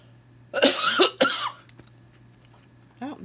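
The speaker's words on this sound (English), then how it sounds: "Why when I talk so much I start coughing" Two sharp coughs close to the microphone, a brief pause, then a person begins speaking.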